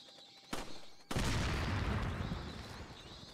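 A sharp gunshot in Resident Evil 4, followed moments later by a heavier blast that rolls into a long, decaying boom and rumble, loud and close.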